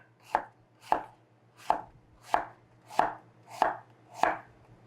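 A knife finely chopping a quarter of an apple on a board, seven crisp evenly spaced chops about every two thirds of a second, close and clear over a faint steady hum, with no talking.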